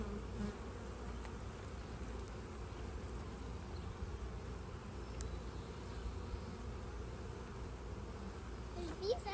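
Swarm of honeybees buzzing around a hive preparing to swarm, a continuous dense hum close by with individual bees passing near the microphone.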